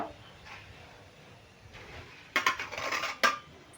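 Fried lentil dumplings are lifted out of a pan and tipped into another vessel; after a quiet stretch, a few sharp metallic clanks and scrapes of utensil against cookware ring out close by.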